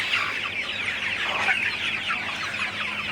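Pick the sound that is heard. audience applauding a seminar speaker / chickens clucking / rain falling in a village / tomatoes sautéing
chickens clucking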